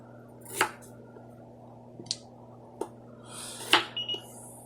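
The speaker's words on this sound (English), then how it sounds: "Try to cut them up in nice chunks." A knife chopping potatoes into big chunks on a cutting board, with a few scattered, close cuts and knocks spaced irregularly over a quiet room hum.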